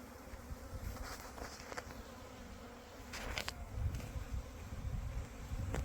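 A swarm of honey bees that has left its hive buzzes continuously among tree branches, a dense steady drone close by that swells slightly toward the end, with no talking.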